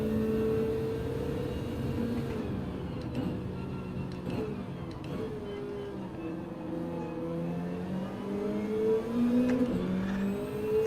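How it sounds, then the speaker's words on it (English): Toyota Supra race car in Gran Turismo 7 drives a track with its engine droning steadily, revving with shifting pitch and swelling louder toward the end, continuous and close with no talk. "This Supra sounds so good."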